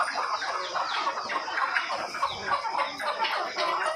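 Chickens cluck and chatter continuously on a poultry farm, several birds at close range in a busy, overlapping flock with no talking.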